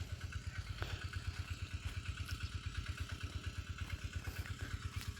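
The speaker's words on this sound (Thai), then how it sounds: "ลองรถไถใหม่พี่น้อง" A new tractor's small engine chugs steadily nearby with a rapid, regular thumping beat and some clattering on top, running alone without voices.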